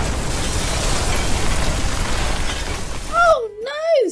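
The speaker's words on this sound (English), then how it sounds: "there was a loud explosion." A loud, sustained cartoon explosion roars with crackling debris for about three seconds, then a voice exclaims over sudden quiet.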